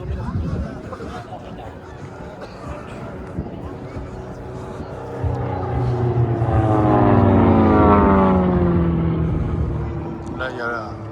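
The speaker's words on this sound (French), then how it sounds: "Il y a un gros hélico là" Large helicopter flying over an air show at Tallard, a rising rotor and engine drone that swells to its loudest past the midpoint and then eases, with crowd chatter and people talking nearby.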